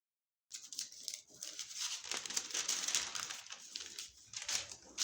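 Close, crinkly paper rustles and snips continue steadily as brown paper is cut, with no voices.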